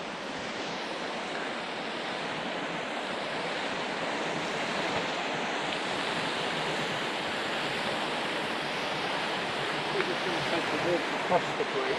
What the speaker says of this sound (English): a quick look at the water racing over.